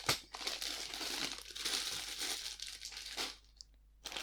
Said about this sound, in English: listen to the bag rustling ASMR a bit whilst I sort this lot out